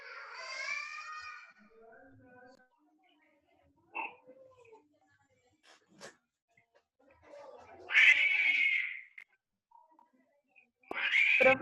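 A cat meows repeatedly with drawn-out, wailing caterwauls, loud bursts separated by quiet gaps, with a brief human voice in between.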